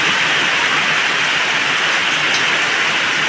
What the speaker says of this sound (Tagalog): Sobra pong lakas ng ulan.